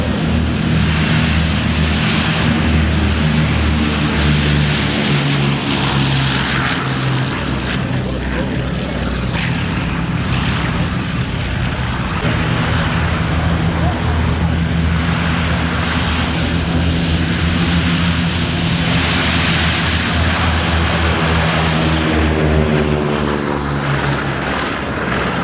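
Radial piston engines of B-17 and B-24 bombers running: a loud, steady, throbbing drone with a pulsing beat that continues throughout at close range.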